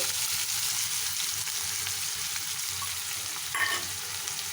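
Sliced onions sizzle steadily in about two spoons of hot oil with cumin seeds, a piece of cinnamon and cloves, a close, continuous hiss with a light stir of the pan near the end.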